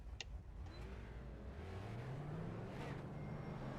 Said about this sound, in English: Get the car fired up as we get ready to roll off the line for our 2 pace laps.